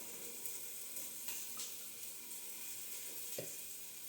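Faint, even sizzle of a ham hock searing in a pan, with a few soft clicks and taps as it is turned, heard close but quiet and with no voices.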